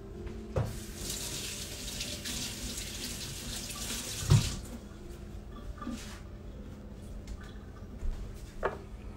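Running kitchen tap rinsing a spoon while egg salad is being made, a steady close stream of water with a few clinks and splashes as the spoon moves under it.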